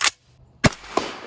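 Subsonic 300 Blackout rounds fired from an unsuppressed rifle make sharp, loud cracks. One shot opens the clip and another follows about half a second later, with a fainter echoing report just after it.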